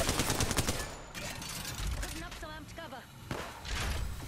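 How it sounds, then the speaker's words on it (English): Other players' gunfire in an online shooter comes as bursts of rapid shots, some close and loud, others more distant, mixed with thuds and someone talking. "There's people shooting at us from over here"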